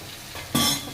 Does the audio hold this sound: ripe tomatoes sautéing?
yes